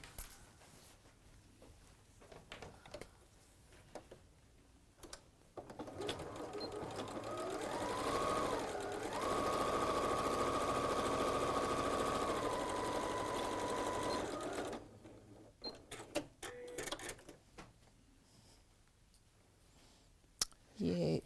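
A sewing machine stitching down the side of a fabric bag, a steady close mechanical whirring run of several seconds with soft clicks and fabric handling before and after.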